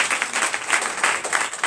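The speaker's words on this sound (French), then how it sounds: "Donnez l'acclamation à la parole." A congregation at a church testimony service claps in a dense, brief burst of applause, close and fairly loud, with no clear voices.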